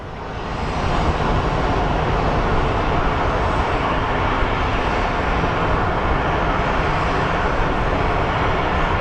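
Airplane taxiing at Phoenix Sky Harbor International Airport, a loud steady jet engine roar that swells in over the first second and then holds a constant broadband rush with no talk.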